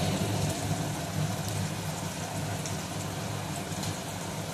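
Chopped tomato sizzles in the pan with ginger-chilli-cumin paste for a papaya malai curry, a steady close crackling patter like light rain that holds evenly throughout without speech.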